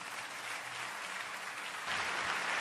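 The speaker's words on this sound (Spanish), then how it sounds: "Vamos a darle un aplauso a Dios." Church congregation applauding during a sermon, a dense, steady wash of many hands clapping that swells louder toward the end, with no speech over it.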